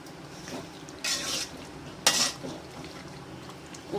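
Chicken gravy being stirred in a pot on the stove, quiet bubbling with two louder bursts of spoon scraping and clinking against the metal pot.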